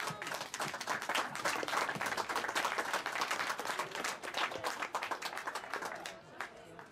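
Applause breaks out at a charity auction during a memorial event, dense clapping from a crowd that holds steady for several seconds and then thins and fades toward the end.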